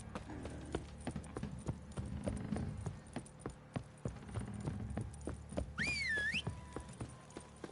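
Horses' hooves clip-clop in The Witcher 3, a quiet, even rhythm of hoof beats with a short rising whistle-like tone near the end.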